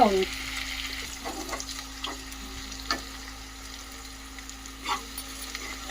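Onions, ivy gourd and potato frying in a pan at medium heat, a low steady sizzle with occasional scraping stirs and soft taps of a spoon, up close, with a faint hum underneath.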